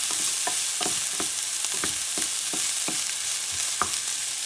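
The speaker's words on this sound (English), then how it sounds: "You don't want the garlic to burn, so you stir and stir." Garlic fries in oil in a pan, a constant close hissing sizzle punctuated by regular scraping strokes of a utensil about every half second, with no voices.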